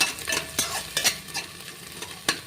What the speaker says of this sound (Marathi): आता हा खोबऱ्याचा मसाला टाकते मी, तोही परतून घेते।